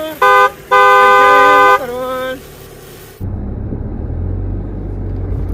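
A car horn blares in two loud, sustained honks, followed by a shorter tone, then a low engine rumble continues afterward.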